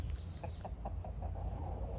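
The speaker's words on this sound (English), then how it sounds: "My Swedish Turken rooster." A Swedish Turken rooster clucking softly at a short distance, a string of quick, faint clucks over a low background rumble.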